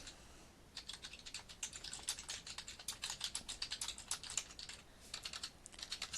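Rapid keystrokes clatter on a computer keyboard in uneven bursts with brief pauses, close and fairly quiet, with no one speaking.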